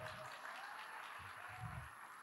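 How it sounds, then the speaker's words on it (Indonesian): A large crowd claps faintly during a Padjadjaran University graduation ceremony, a distant wash of applause in a big hall with occasional low rumbles from the microphone. "Kali ini tepuk tangan untuk yang mendapat predikat sendirian."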